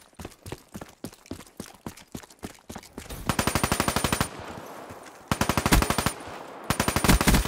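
The Weevil gun fires in Call of Duty Black Ops 3, first as separate quick single shots and then as several loud, rapid automatic bursts with brief pauses between them.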